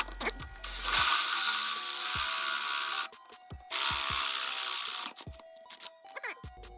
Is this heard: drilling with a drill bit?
yes